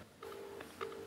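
A quiet electronic ringback tone sounds in short pulses over a thin line hiss.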